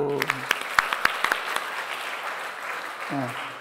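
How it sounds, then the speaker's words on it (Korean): A church congregation at a Sunday worship service claps in a brief burst of applause that fades into a rustling crowd murmur, with a voice speaking at the start and again near the end. "자 우리 박수"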